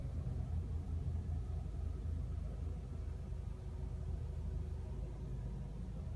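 A 2015–2016 Ford Fusion idles after a push-button start, a steady low engine rumble holding at an even level throughout with no speech over it.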